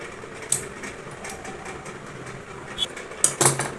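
Sewing machine stitching a sweetheart neckline with border, a soft steady mechanical hum with light clicks and a few sharper taps near the end.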